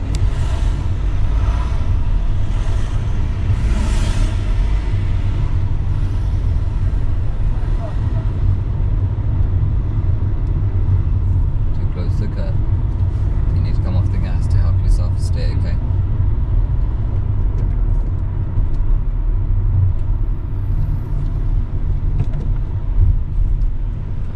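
A car drives on a UK road during a driving lesson near three-lane roundabouts, with a continuous low engine and road rumble from inside the cabin. People talk over it at times.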